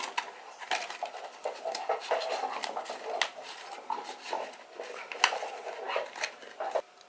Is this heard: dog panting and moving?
yes